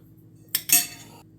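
A spoon scrapes and clinks against a big bowl as mashed avocado is scooped in, making two quick close clatters with a brief ringing tail in an otherwise quiet room.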